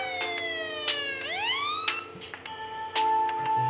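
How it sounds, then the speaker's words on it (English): A police car siren in the city-building video game City Island 3 wails with rising and falling sweeps, layered with ticking and clicking effects over a steady low background hum. "I can hear the police car."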